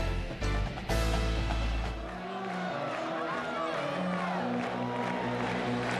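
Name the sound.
capacity stadium crowd at a college football game in Lawrence, Kansas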